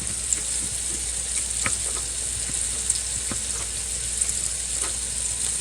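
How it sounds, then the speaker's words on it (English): Onions and peppers frying in a pan, a continuous close sizzle broken by small spatters and light stirring taps, no talking. "I'm going to go ahead and get the onions and peppers into the pan and just cook them up a little until they're translucent"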